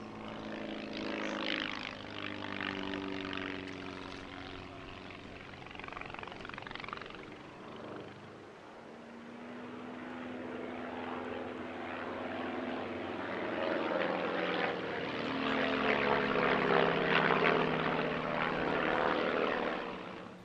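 Propeller aircraft fly a three-ship formation display at the Midlands Air Festival 2025, their engines droning steadily throughout, swelling and fading as the planes pass, fairly distant but loud.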